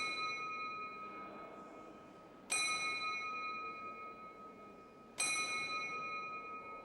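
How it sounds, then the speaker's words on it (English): A mechanical clock figure at Roskilde Cathedral strikes the quarters on a small bell, two clear ringing strokes about three seconds apart, each leaving a long shimmering decay that lingers between them. "Then Kirsten Bellringer strikes the quarters on the small bell"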